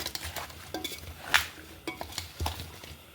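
A spoon stirs Andhra avakaya mango pickle in a steel vessel, giving scattered close clinks and scrapes of metal on metal with soft, wet mixing in between. A louder clank lands partway through.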